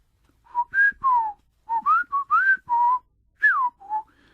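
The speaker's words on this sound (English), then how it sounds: "That was me whistling, actually." A person whistles a lively, bouncing tune in short phrases with brief pauses, clear and close, with no other sounds.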